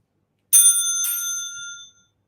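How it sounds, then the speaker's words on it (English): Bicycle bell struck twice in quick succession, bright metallic rings close by that linger and fade over about a second and a half, with nothing else heard. "it has got a bell that rings."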